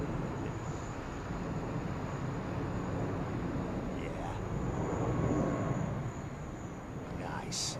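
An airliner taxis at Heathrow Airport, a continuous low engine rumble and hiss that holds steady and swells slightly before easing, heard from a distance with a voice speaking over it.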